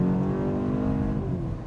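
A 2025 BMW M235 Gran Coupe engine in Sport Plus mode, with sound augmentation, gives a steady droning hum that holds at an even level and then eases slightly near the end.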